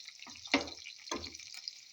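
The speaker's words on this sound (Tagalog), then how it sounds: "Ayan, iprito na natin." Egg dropped into hot oil for a homemade omelette shawarma, giving two short bursts of sizzling close by with a faint steady hiss between them.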